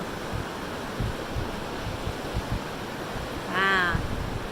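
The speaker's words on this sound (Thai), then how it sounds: "ก็เป็นน้ำตกแบบนี้ อันนี้ก็คือ ไหลลง ไปที่ข้างล่าง" A waterfall on the Gold Creek hiking trail near Vancouver fills the air with a steady, dense rushing roar that never lets up, with a brief high chirp over it near the end.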